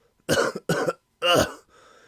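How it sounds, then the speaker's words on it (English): Three harsh coughs, close and loud, the first two quick together and a third after a pause, then a faint raspy breath. "Infernal cough."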